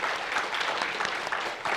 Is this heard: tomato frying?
no